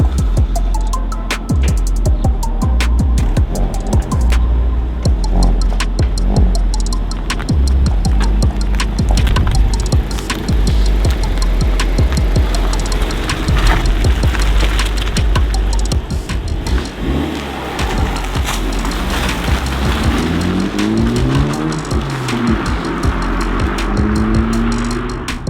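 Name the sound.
Honda Civic Type R FL5 on a test drive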